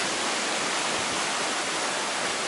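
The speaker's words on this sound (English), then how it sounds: "this is a tributary stream" A tributary stream in flood in Bontddu, Wales rushes loudly and continuously, a dense broadband roar of churning water with no other sounds breaking through.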